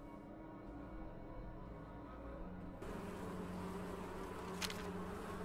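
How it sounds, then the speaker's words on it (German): Fire bees in the video game Legends of the Wild give off a steady, low-level insect buzz that drones continuously and swells slightly partway through. "Feuerbienen sind die aggressivsten und giftigsten Bienen dieser Welt."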